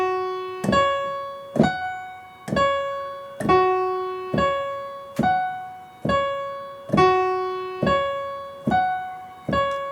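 Piano notes are played in a steady, mechanical cycle with even note lengths, each struck chord ringing on and decaying under the sustain pedal before the next strike lands at a regular interval.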